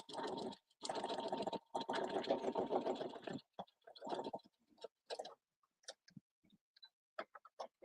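A sewing machine stitches a quilt seam in fast, steady whirring runs that stop and restart during the first three seconds, followed by a few short bursts and small clicks as the fabric is handled.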